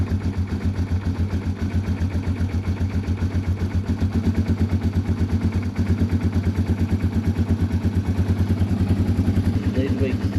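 A Yamaha TW200 motorcycle engine chugs in a steady, rapid pulsing rhythm, loud and close, holding nearly constant throughout.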